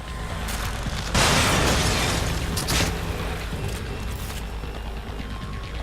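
A dynamite blast in the survival horror game The Evil Within, a loud, broad explosion bursting in over rumbling action noise, followed by a second thump and lingering debris.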